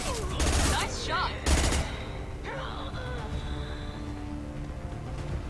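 Gunfire in the Mass Effect 2 video game: two loud bursts of rapid shots in quick succession, followed by quieter ongoing combat noise.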